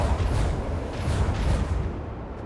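Macro cannons firing in the Warhammer 40k Rogue Trader video game, a dense, loud, continuous roar of overlapping booms and rumbling blasts that fills the whole moment before easing slightly at the end.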